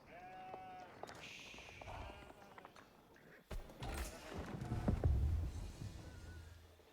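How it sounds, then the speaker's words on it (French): Sheep bleat in a medieval strategy video game, a couple of short, faint bleats over a quiet mix of game effects and low background sounds. "On va ramener un mouton."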